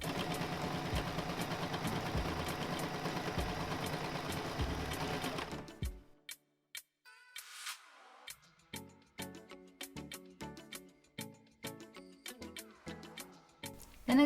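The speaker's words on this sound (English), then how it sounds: "put your bias tape on your fabric, sew the edge, then fold and sew again" A sewing machine runs steadily and loudly for about six seconds as bias tape is stitched onto a fabric edge, then gives way to a series of short clicks and brief mechanical bursts.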